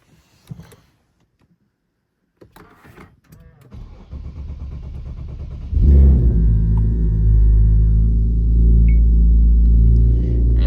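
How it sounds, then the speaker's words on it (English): A car starts at a Boxing Day car meet in Melbourne: a few clicks and rustles, then the starter whirs and the engine catches with a loud rumble, settling into a steady, close idle. "let's start up the car"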